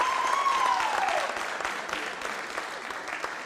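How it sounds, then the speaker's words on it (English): Steady applause from the audience at a city council meeting, a dense wash of clapping that carries on for several seconds and slowly thins toward the end. "let's give a clap to that"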